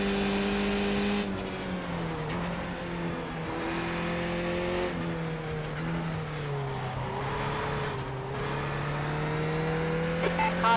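Open-wheel race car engines in the iRacing sim racing game, a Skip Barber test session with faster F3 cars passing, droning steadily and loud throughout with shifting engine pitch and no pauses.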